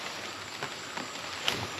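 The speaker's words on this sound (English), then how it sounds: "It's raining, it's thundering, it's everything right now." Rain falls in the Amazon rainforest as a soft, steady hiss of drops, with a few slightly louder patters standing out against the constant wash, and no voices.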